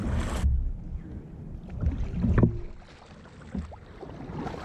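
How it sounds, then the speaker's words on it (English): Paddle strokes from a Vibe Sea Ghost 110 kayak working against a swift river current, with splashy water and breezy wind noise, a few distinct dips standing out close to the microphone. "You can see the paddling's a little bit harder"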